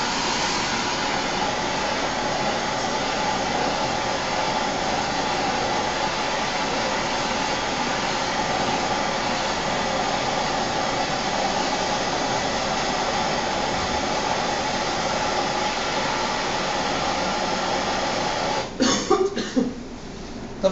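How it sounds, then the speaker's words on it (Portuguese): A gas torch flame heating a pipe joint for soldering gives a steady, continuous roar that holds evenly throughout, ending in a few brief knocks and clatters near the close. "E nunca jogo o maçarico direto, a chama direta onde eu estou com um fluxo de solda."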